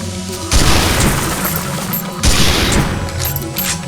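Repeated gunfire from the Snipe Shot fire mode in the video game Dino Stalker, with two loud, sustained bursts of crackling blasts separated by a brief dip and no talking.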